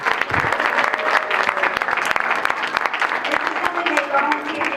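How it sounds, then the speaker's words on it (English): Audience applause at a school family fun night, steady dense clapping from a large crowd filling the room throughout, loud and continuous. "I would also like to give one more round of applause for the 3 young people"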